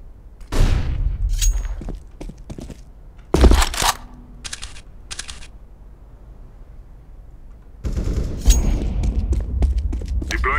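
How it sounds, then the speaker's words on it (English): In a CS:GO match a flashbang grenade goes off with a loud sharp bang. Bursts of gunfire come before it, the middle goes quiet, and then heavy rapid firing starts again. "Flashbang."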